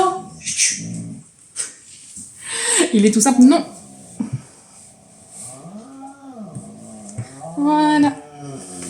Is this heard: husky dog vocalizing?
yes